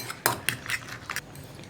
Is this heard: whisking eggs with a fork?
yes